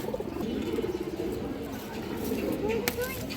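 A pair of large silver pigeons coo in soft, repeated low calls, close by, with someone talking over them throughout.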